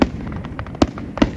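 Fireworks over the lake at Niagara Falls give off a string of soft pops and three sharper booming bursts spaced apart, with a low rumbling haze of distant crackle between them.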